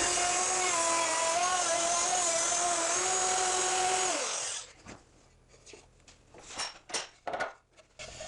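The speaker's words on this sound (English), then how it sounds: "I've got to make sure the bit is spinning at full speed" A router bit's high-pitched spinning whine holds steady for about four seconds, then cuts off, followed by scattered scraping and rattling noises of cutting a wooden log.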